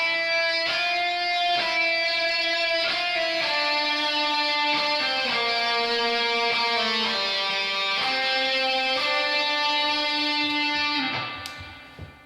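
Electric guitar playing a phrase from a solo, a run of clear sustained picked notes with slides and bends, stepping through a melodic line that fades out at the end.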